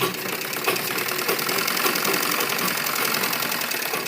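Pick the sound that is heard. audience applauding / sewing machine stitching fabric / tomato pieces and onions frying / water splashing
sewing machine stitching fabric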